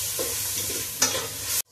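A spatula stirs fried rice with vegetables, fried chicken and egg in a hot pan, a short close scrape with a soft sizzle and one sharper clink before it cuts off.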